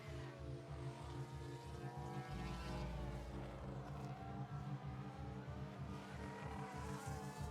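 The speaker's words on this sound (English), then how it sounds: "Doohan has been overtaken by Gasly" Formula 1 race cars in the F1 Manager 2022 video game during a Singapore race, a steady loud layered engine drone with shifting harmonic whines of several cars running together, no talk.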